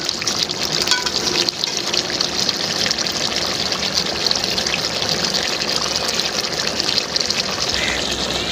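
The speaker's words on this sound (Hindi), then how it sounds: "नींबू का रस हमने ऐड कर लिया है" Lemon juice being poured into a simmering beef karahi, giving a steady, continuous liquid trickle and sizzle close by, with no talk over it.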